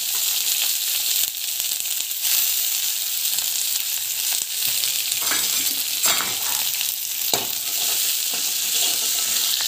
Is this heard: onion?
yes